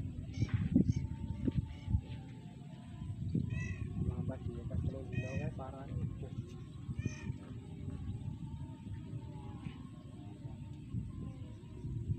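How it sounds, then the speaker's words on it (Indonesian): Several loud nasal, wailing purple swamphen calls ring out in repeated bursts over low rumbling background noise, with people talking faintly underneath. "Suara mandar birunya"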